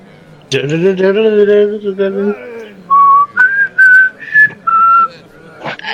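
A person whistles a short tune during a tabletop role-playing game session. A sliding, wavering phrase comes first, then a series of clear, separate held notes, close and fairly loud.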